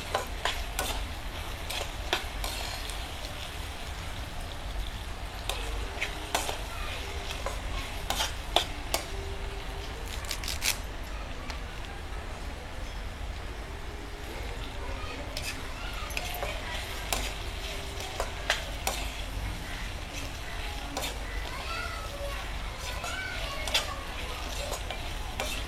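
Curry leaves and garlic sauté in hot oil with a steady, close sizzle, punctuated by scattered sharp clicks and scrapes of a spatula against the pan over about twenty-five seconds.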